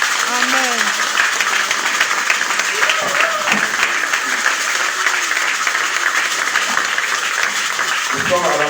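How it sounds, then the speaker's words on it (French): Church congregation applauding in a sustained, dense burst of clapping that lasts throughout, with scattered voices calling out over it. "On acclame le Seigneur."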